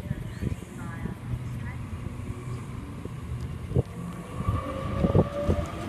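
A Sydney train, the A61 Lidcombe service, departs platform 2 at Birrong, rumbling steadily with squeals and clanks at moderate distance while a person talks over it.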